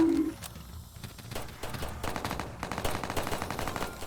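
Rapid gunfire from a Roblox zombie survival game crackles in dense, fast bursts, loud and continuous through most of the moment, with a brief quieter gap near the start.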